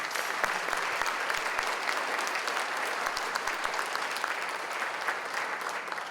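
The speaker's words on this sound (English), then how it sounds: "a huge round of applause" Conference audience applause at The Myositis Association's annual patient conference welcome session, a sustained, dense crowd clapping heard at a distance, steady and unbroken with a few sharper nearby claps.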